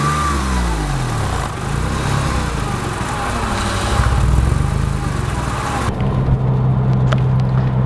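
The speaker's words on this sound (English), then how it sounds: "I'm just going to rev the car and see what it sounds like now." Porsche 911 996 with a DesignTek sport exhaust held at a low, steady engine note, with one or two mild rises in revs under a continuous rumble and no voices.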